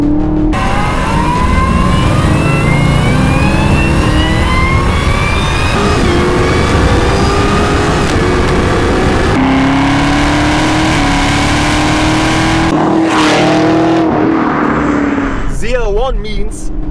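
A 2021 Chevrolet Camaro ZL1 with a 6.2-liter LT4 V8 revs and pulls away, with engine pitch rising repeatedly and shifting, loud and close, while someone talks over it.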